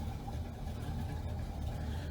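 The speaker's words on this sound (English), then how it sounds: "and that's just idling." A 1986 Chevrolet C10 pickup's engine idles at a steady low idle, a close, continuous low rumble that holds even with no voices over it.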